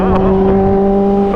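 A Kawasaki Ninja H2 superbike engine revs loudly and close, a steady droning roar held for a moment with no talk over it.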